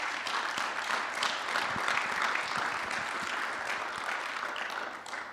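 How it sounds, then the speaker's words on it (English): An audience gives a round of applause at a mental health talk, moderately distant sustained clapping with some individual claps standing out. "So I think you deserve a big round of applause for that."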